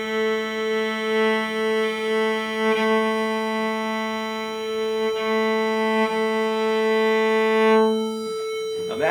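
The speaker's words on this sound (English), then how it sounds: "I reach over with my left and I start bowing very quietly." A cello tuned in open fifths is bowed quietly, two open strings sounding together in a steady drone that wavers as the bow moves, with a faint rustle near the end.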